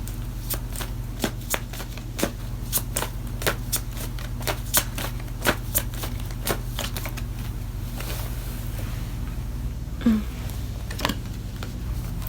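A tarot deck is shuffled by hand, close and fairly quiet, a long run of quick crisp riffling snaps in an irregular rhythm with no voices.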